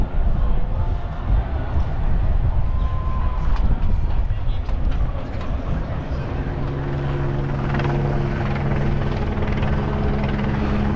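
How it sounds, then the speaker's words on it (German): A helicopter follows a Tour de France Grand Départ stage in Copenhagen, its loud steady rotor rumble filling the air alongside general crowd and street noise, with voices in the background. "Da werde ich dann auch vom Hubschrauber verfolgt."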